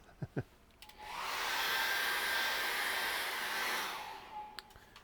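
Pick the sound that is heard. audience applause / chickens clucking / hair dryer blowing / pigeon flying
hair dryer blowing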